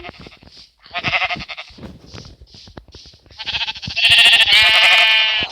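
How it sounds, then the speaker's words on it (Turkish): Several Minecraft sheep bleat in short, repeated calls, some overlapping, with a louder drawn-out bleat near the end. "Ay koyun mu var?"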